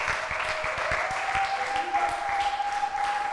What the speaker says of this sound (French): Donne-lui une offrande d'acclamation.